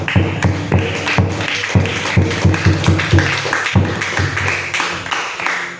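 A church congregation claps hands in a loose, steady rhythm, the sharp slaps close and fairly loud and continuing for several seconds with no talk over them.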